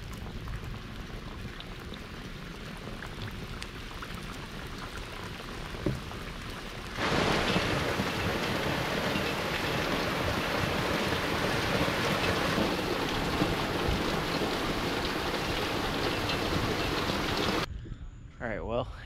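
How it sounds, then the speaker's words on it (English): Steady, dense rain pours down continuously, swelling heavier partway through into a loud, hissing downpour before cutting off near the end. "Hopefully we get a big old downpour"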